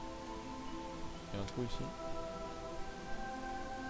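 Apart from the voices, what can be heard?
rain falling in the video game Starbound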